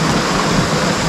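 Strong, fast-flowing river water at a deep stretch, heard as a steady, loud broadband rush with no break, close to the microphone and with no voices over it.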